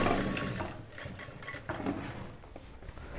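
An electric sewing machine runs steadily while stitching a chudidar top, with a continuous close mechanical whir and a light rapid ratcheting of the needle. No voices can be heard.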